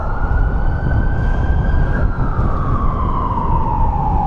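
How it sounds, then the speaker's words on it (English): A wailing emergency siren sweeps steadily up and down, loud and continuous over the rumble of street traffic in Washington, D.C. "the national sound of Washington is the siren. You pretty much hear it everywhere"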